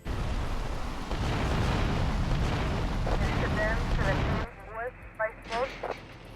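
Explosions and gunfire in the PC game GTA: Vice City as taxis are destroyed, a dense, continuous roar of blasts that cuts off abruptly, followed by a few sharp pops.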